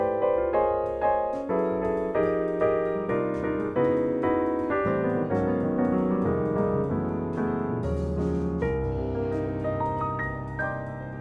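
Solo jazz piano moving through a reharmonized intervallic chord progression, rich sustained voicings struck one after another at a relaxed pace with melody notes ringing on top, close and clear with no talking.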